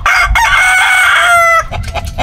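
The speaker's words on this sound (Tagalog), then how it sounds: "Tawag mo manahin yung manok." A chicken crows loudly and close by, one long drawn-out crow followed by a few short clucks.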